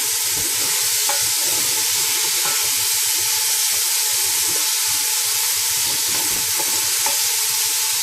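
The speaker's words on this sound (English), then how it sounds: "green peas, potatoes and carrot. Just saute them a bit." Green peas, potatoes and carrot sauté in a pan with a loud, steady sizzle and a few light clinks from stirring, unbroken throughout.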